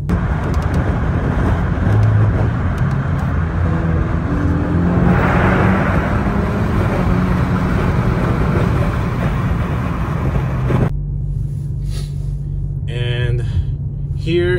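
A turbocharged car with a tuned engine and a drilled fuel line, running almost 26 PSI of boost, accelerates hard through its gears. A loud, steady engine roar fills the interior and shifts abruptly near the end.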